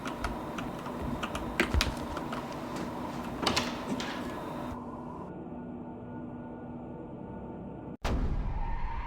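Computer keyboard keys clatter in rapid, uneven taps during play of the horror game Cry of Fear, with bursts of presses in the first half, a quieter stretch, then a sharp loud hit near the end.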